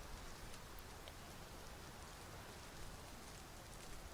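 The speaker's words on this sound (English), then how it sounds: "А теперь дождь, да?" Steady rainfall in a fantasy role-playing video game, a quiet, even patter of drops on surfaces continuing without pause and with no other sounds.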